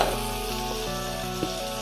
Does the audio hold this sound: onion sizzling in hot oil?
yes